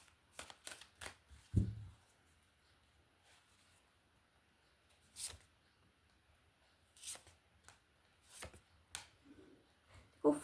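Tarot cards shuffled in quiet, scattered bursts of soft riffling and slapping with short pauses between them, and one louder knock near the start.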